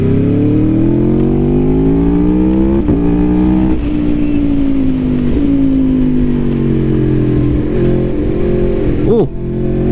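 A 2021 Aprilia Tuono V4 Factory motorcycle on a twisty road, its V4 engine droning loud and close as the pitch climbs and falls through several gear changes under strong wind rush.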